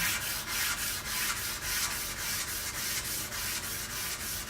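Sandpaper rubs back and forth over a lacquered surface after a clay-lacquer coat, making a steady rhythm of about ten short, gritty scraping strokes close by with no voices.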